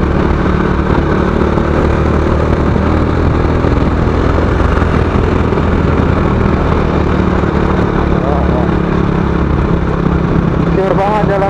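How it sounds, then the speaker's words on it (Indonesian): An old Honda Astrea motorcycle engine drones steadily while riding on a road, a loud continuous hum mixed with wind rush, with a brief squeaky sound near the end. "Astrea ini guys. Masih enak sih motornya."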